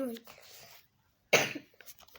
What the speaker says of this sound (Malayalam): ഭയങ്കര ചുമപ്പനിയാണ്. അതുകൊണ്ട് എപ്പോഴും ചുമക്കാണ്